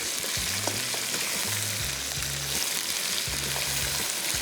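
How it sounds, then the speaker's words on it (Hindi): Chicken pieces frying with garam masala in a pan, a steady close hiss and crackle of sizzling oil throughout, with occasional stirring scrapes and no talking. "ये चिकन इसमें शामिल कर दिया और बड़ी मज़े की गरम मसालों की फ्राइंग की वजह से इसकी खुशबू आनी शुरू हो गई है"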